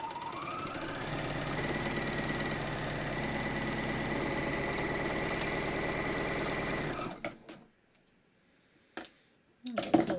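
Sewing machine stitching a seam on stretch yoga pants while fabric is trimmed: a steady, loud, close mechanical whir runs for about seven seconds, then stops, followed by near silence and a few soft clicks and handling noises.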